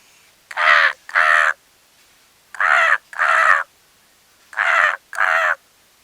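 Someone mimics a crow's caw in three pairs of harsh, loud calls, each pair separated by a brief silence; no other sounds around.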